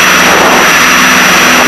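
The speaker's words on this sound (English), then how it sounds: "I'm going to shut down the right engine" A Piper Seneca twin-engine aircraft's engines run with a loud, steady roar and whine, close and constant throughout, with no talking.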